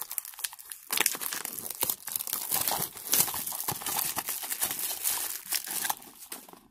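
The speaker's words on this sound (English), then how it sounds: "Now we open the mega tin, the blaster. Let's open the blaster box." Cardboard and plastic wrapping tear and crinkle up close as a Panini Euro 2020 trading card blaster box is ripped open, a continuous busy rustle with sharper rips throughout.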